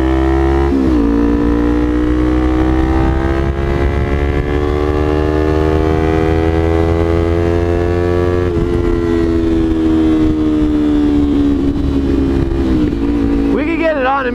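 A motorcycle fitted with a new exhaust revs loud and close, its engine note climbing and falling through several throttle sweeps.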